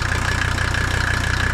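A 1985 Mercedes 300D's old diesel engine idles steadily close by, a low rhythmic clatter with a fast even pulse and no voices over it.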